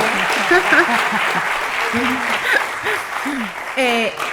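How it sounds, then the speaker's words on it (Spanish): Audience applause at a public talk, a steady wash of clapping heard under scattered voices and cheering, moderately loud throughout. "Así que un aplauso. Otro más."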